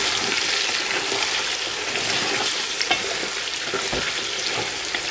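Whole spices (cinnamon sticks, cumin, black cardamom, cloves, green cardamom) and salt are stirred in a cooking pot for Afghani pulao, giving a steady close sizzle and scrape that runs throughout without talk.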